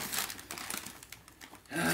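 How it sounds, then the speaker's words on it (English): Crinkling and rustling of a plastic bag as a Christmas present is unwrapped, a busy crackly run of close handling noise that surges louder near the end. "That's a plastic bag!"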